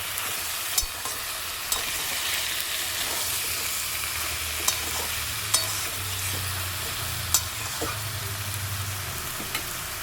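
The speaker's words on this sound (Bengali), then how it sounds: "এবারে কিন্তু ভালো করে এটাকে কষিয়ে নেব" Bottle gourd sautés in a pan with a constant frying hiss, while a few separate spatula scrapes and clicks stand out from the even sizzle, close by and with no voices.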